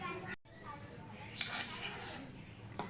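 Chow mein noodles are mixed with a fork in a dish, giving soft scraping and clinking of metal on crockery, with a few sharper clinks, close and quiet, under faint background voices.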